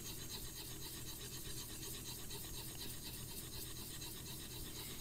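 A blade is sharpened by steady back-and-forth rubbing on a 16,000 grit stone, a continuous soft rasping close by with no talking.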